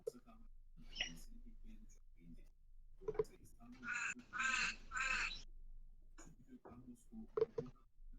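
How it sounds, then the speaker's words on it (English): A duck quacks in bursts several times in the background, three or four raspy calls clustered in the middle, with quiet talking around them. "So now we have a dying duck in the background."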